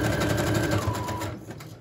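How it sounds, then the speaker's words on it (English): A sewing machine stitches a layered doily onto a paper tag in a rapid, continuous mechanical whir with fast needle clatter, close and loud, slowing and easing off near the end. "So I'm just gonna sew it on."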